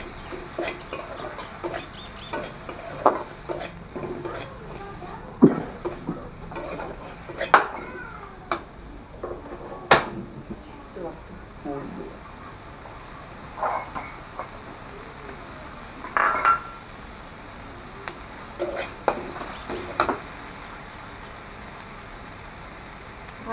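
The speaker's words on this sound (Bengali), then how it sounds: "এবার আমরা নেড়ে চেড়ে 2-3 মিনিট নেড়ে চেড়ে নেব।" A potato and coriander filling for aloo paratha is stirred in a pan, with irregular scrapes and clinks of a spoon against the metal, some louder knocks among quieter rustling.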